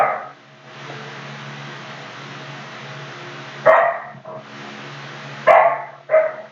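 Dogs bark indoors in a few sharp, close bursts separated by pauses, over a steady background hum.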